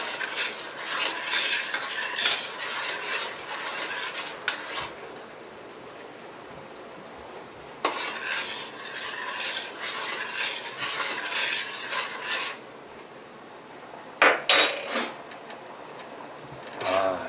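A utensil scraping and clinking around a pan while stirring a meatball stir fry, in stretches of stirring, with a quiet pause midway and a few sharper knocks near the end.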